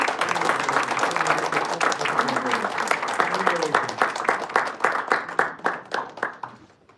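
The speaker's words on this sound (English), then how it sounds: "may I request everyone to stand up and applaud" A standing audience at a Toastmasters club meeting applauds a speaker, dense clapping at first that slows and thins into a few separate loud claps near the end, with some voices underneath.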